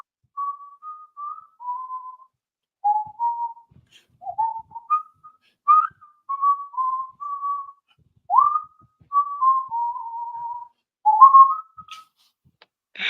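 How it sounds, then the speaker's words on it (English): A person whistles a wandering, tuneless string of notes in short phrases with brief pauses, fairly close and alone with no talking. "She's just like whistling random notes"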